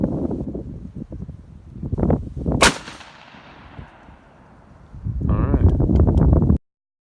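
A shotgun with a Carlson choke firing 3.5 inch 6 shot turkey ammunition outdoors. A single loud, sharp blast rings out mid-clip and decays slowly, with people talking before and after it and wind noise throughout.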